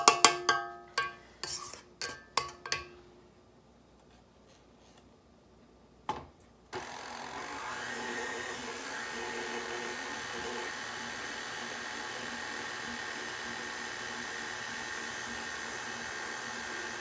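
Electric mixer beating homemade devil's food cake batter with butter and cream. A few sharp taps and clicks come first, then the motor starts and holds a steady, even whir close by until the end.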